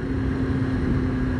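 A 2005–2006 Kawasaki ZX6R 636 sports bike on the move with its stock exhaust, giving a steady, subdued engine drone with a constant low hum and no change in pace. No voices.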